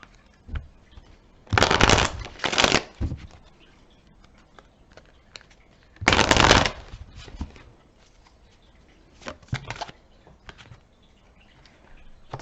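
Tarot cards being shuffled and drawn, two loud riffling bursts and a few quieter flicks and snaps of single cards in a quiet room.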